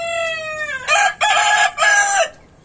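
A rooster crows loudly and close by on a small home hen farm, a single long cock-a-doodle-doo rising into three strong pulses, with faint clucking underneath and no talking.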